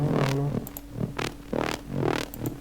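A gritty, aggressive mid-bass techno sample layer driven through Decapitator saturation, pulsing in repeated loud bursts with a distorted, buzzing edge, heard alone.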